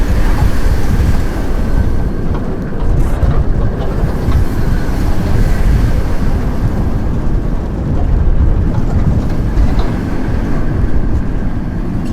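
Loud, steady rumble and rattle of a theme park train ride rolling along, a continuous low roar with no voices, constant throughout.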